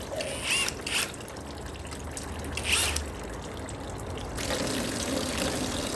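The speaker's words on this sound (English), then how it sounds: "Now I'm just trying to drain out as much of the coolant as I can without making too big of a mess." Engine coolant from a Chevrolet LT1 V8 trickling and pouring steadily into a drain pan during teardown, with ratcheting mechanical clicks early on.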